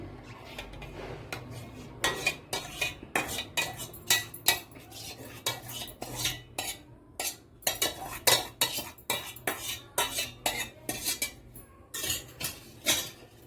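A spoon spreads custard over fried bread slices for a bread custard sweet, giving repeated metallic scrapes and clinks against a plate in a steady, close rhythm with no talking.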